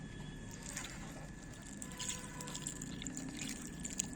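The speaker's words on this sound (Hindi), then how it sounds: "अब हम इसमें अच्छी तरह से पानी डाल देंगे" Water pours steadily into the soil of a pot planted with garlic, a soft continuous splashing and trickling with faint drips, fairly quiet and close, with no talking.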